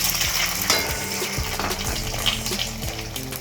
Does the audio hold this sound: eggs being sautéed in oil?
yes